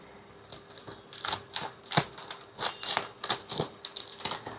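Miniso blind box package being opened by hand, a series of close, crisp crinkling and tearing bursts in an uneven rhythm, fairly quiet.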